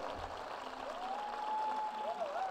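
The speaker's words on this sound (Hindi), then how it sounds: "अरे ताली बजाना, ठीक से ताली बजाओ." Congregation clapping at a church meeting, a continuous roomful of hands applauding at moderate distance, with a voice speaking faintly over the clapping.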